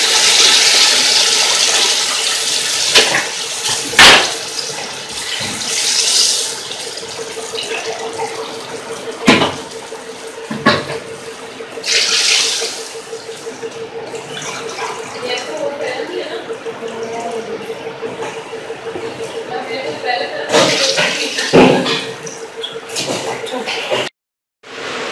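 Rice being washed by hand in water from a kitchen tap while cooking aloo pulao: running water and sloshing, scraping splashes with intermittent louder bursts over a steady flow.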